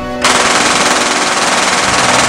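Sustained automatic gunfire roars continuously at close range in a dramatic scene, a dense, loud burst that starts abruptly after a short moment of voice and keeps going without break.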